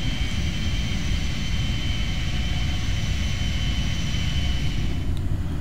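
A Captain Sim L1011 airliner's engines drone steadily in the Prepar3D flight simulator, a continuous broad roar with a faint high whine that stays even throughout, with no talking.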